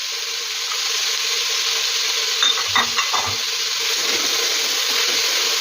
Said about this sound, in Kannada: ಚೆನ್ನಾಗಿ ಎಣ್ಣೆಯಲ್ಲಿ ಫ್ರೈ ಆಗಬೇಕು.